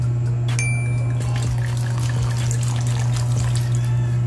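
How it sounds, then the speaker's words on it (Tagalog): White wine trickles into a cream sauce for chicken alfredo in a home kitchen. It makes a soft, steady pour over a constant low electrical hum. "So guys, ito yung gamit ko na white wine. Ayan. So lagyan lang natin."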